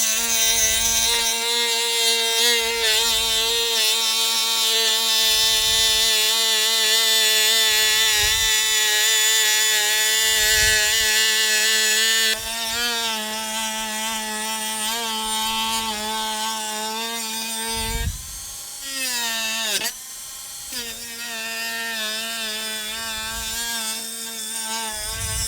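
A power tool cuts through a 5th Gen 4Runner bumper with a steady, loud, high-pitched whine, close and continuous, with brief drops in pitch as the blade bogs down partway through the cut.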